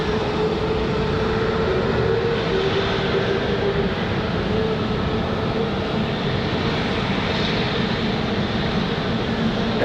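An American Airlines jet departs the runway at Raleigh-Durham airport on a windy day, its engines producing a loud, continuous broadband roar with a steady hum that holds throughout, close and dominant.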